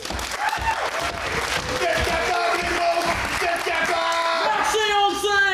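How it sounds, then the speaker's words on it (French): Applause and cheering from an improv show audience, with whoops and yells rising over steady clapping, loud and continuous throughout. "Un petit main d'applaudissement pour les encourager."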